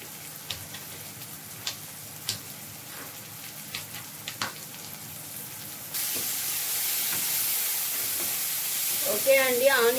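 Onions frying in a pan for egg omelette curry give a steady close sizzle and hiss, which swells louder after the midpoint and carries a few light stirring clicks.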